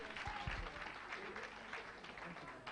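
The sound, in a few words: audience applause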